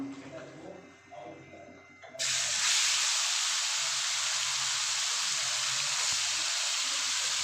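Marinated meat goes into a hot pan for a quick Bengali home-style lunch, and after a short quieter lead-in a loud, steady, close sizzle bursts in and holds without letting up.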